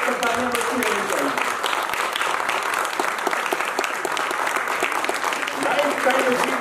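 A theatre festival audience keeps up steady, dense applause at a lifetime achievement award ceremony, the clapping loud and continuous throughout.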